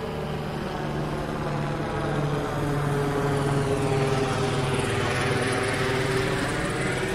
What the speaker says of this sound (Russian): Гляньте, вертолет летит.